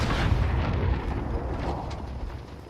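A land mine on a helicopter explodes in Call of Duty: Warzone, a deep, rumbling blast rolling on continuously with a heavy low-end boom and crackling debris, loud and without any talking.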